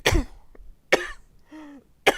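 Several short, rough coughs in sequence, close up, with a throaty clearing sound between them and brief pauses.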